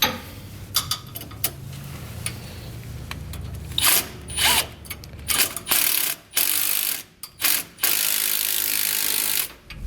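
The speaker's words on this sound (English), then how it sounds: "we can go ahead and zip everything down with our 13mm socket" A ratchet with a 13mm socket zips bolts down on the bracket of an Air Lift LoadLifter 7500 XL air helper spring on a 2016 Ford F-series truck, giving repeated close, loud clicking bursts separated by short pauses.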